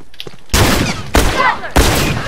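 Gunfire in The Last of Us multiplayer during a Supply Raid match: three loud, close shots in quick succession, each a sharp crack with a short ringing tail, after a brief quieter lead-in.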